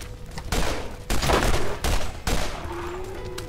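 Gunfire in the video game Borderlands, loud close bursts of rapid shots separated by brief pauses, with a weapon whine ringing under the later volley.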